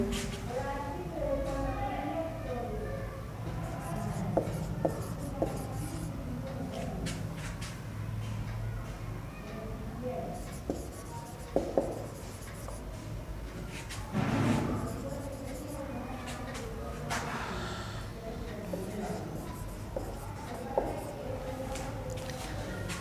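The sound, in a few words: pen writing words on a board or paper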